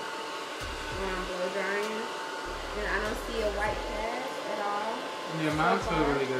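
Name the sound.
hair dryer blowing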